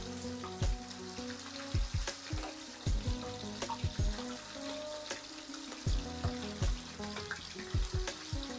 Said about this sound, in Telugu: గరిటతో మనం తిప్పుతున్నాం ఇప్పుడు చికెన్ని